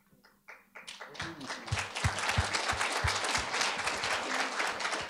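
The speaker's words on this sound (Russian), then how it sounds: "аплодисменты неустанно продолжаются" An audience at an award ceremony breaks into applause: a few scattered claps grow into steady, dense clapping that continues without pause, with some sharper taps close by.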